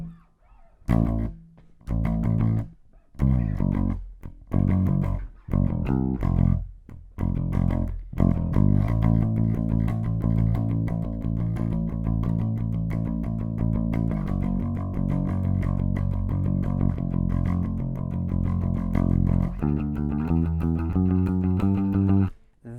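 Bass guitar plays a song's verse, opening with choppy staccato plucks and gaps before settling into a steady driving line, then a busier fill near the end, close and unaccompanied.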